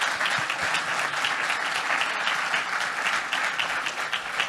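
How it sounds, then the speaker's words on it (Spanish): A conference audience gives a panel on energy-transition financing a sustained round of applause, dense, even clapping from many hands with no pause, heard on its own. "así que les pido un aplauso."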